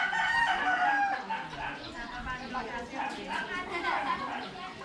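A rooster crows among a flock of chickens in a rural Filipino yard, the calls rising over a busy mix of clucking birds and nearby chatter, with people talking throughout.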